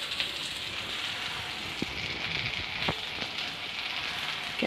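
Capsicum fries in a pan with a continuous crackling sizzle, dense with scattered sharp pops and spits at close range, steady and fairly quiet.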